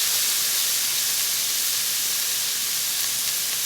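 An Oklahoma onion burger cooking on a griddle, giving off a steady, loud, unbroken hiss of sizzling fat with no pauses, close to the cooking surface.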